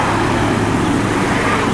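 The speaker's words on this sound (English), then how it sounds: "The birds and traffic will stop." Continuous road traffic noise beside a Volvo 850 being worked on outdoors, a steady broadband roar of passing cars and vehicles, loud and close with no pauses.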